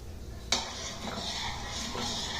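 Red wine sauce for braised short ribs stirred in a pan, with a soft, steady scraping and swishing under a low background hiss and a sharp utensil knock near the start.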